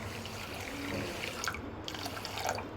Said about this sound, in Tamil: கொஞ்சோண்டு தண்ணி ஊற்றினா போதும்